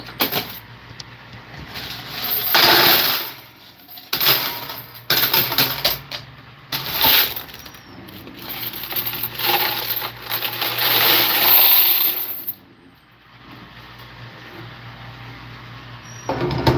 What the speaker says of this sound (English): That's about the fastest I can put the coins in.